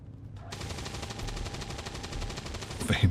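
Automatic gunfire in XCOM 2: War of the Chosen bursts in after a brief quiet, a fast, even rattle of shots lasting a couple of seconds and ending in a heavier impact.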